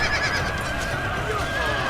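Cavalry horses in the samurai battle game Shogun: Total War let out a loud, close whinnying neigh, a drawn-out wavering cry over a steady battle din.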